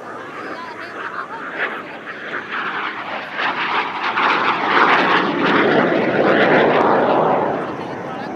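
Frecce Tricolori jets sweep past during their final display manoeuvre at the Dubai Air Show 2023, a loud engine roar that builds and surges in waves, peaking late before fading.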